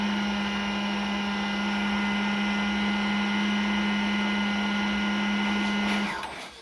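A blender whirs steadily at close range as it purées pumpkin and potato for baby food, a loud, even motor whine with a sustained hum that holds for about six seconds and then winds down as it switches off.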